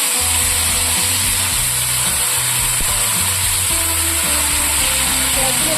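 Onions sizzle and fry in hot oil in a pan with bay leaf, cardamom, cinnamon and dried chilli for a muri ghonto, a steady close hiss running throughout.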